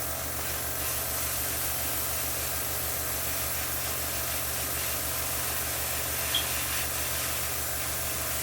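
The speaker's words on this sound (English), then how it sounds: "I need to just spray initially, put the part in front, start spraying." A 0.5mm airbrush sprays paint as a steady, even hiss of compressed air, continuous and unbroken with no pauses and no voices.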